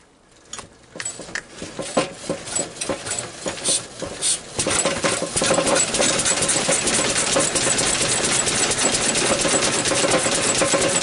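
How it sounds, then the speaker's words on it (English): A small petrol engine with a drive belt, running on fresh petrol, coughs through several uneven firing bursts before catching and settling into a steady, loud, close running drone with no talk. "So we'll see if we can get the engine going."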